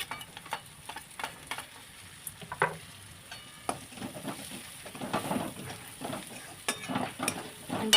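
Spices frying in oil in a pan for a matar mushroom curry, a soft steady sizzle broken by scattered stirring clicks and scrapes, close and fairly quiet.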